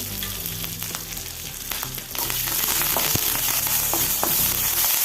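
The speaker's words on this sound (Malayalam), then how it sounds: "കടുക് പൊട്ടി വരുമ്പം കുറച്ച് കരിവേപ്പിലയും നാലഞ്ച് വറ്റൽമുളകും കൂടി എണ്ണയിലിട്ട് കൊടുത്ത്" Hot oil sizzles loudly and steadily, with scattered crackles and pops as mustard seeds burst and curry leaves and dried red chilies fry close by.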